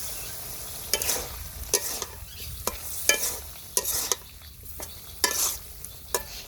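Cauliflower sautéing in a covered pan for a fish curry, a steady sizzle and frying crackle broken by repeated sharp scraping stirs, close and alone without talk.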